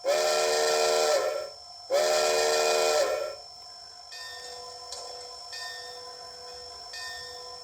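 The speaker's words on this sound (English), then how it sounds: "We'll go ahead and blow the whistle." A Bachmann 2-8-8-4 model steam locomotive's DCC sound decoder blows its whistle in two long, loud, shrill blasts. Quieter steam hiss and faint chuffing follow, with no voices.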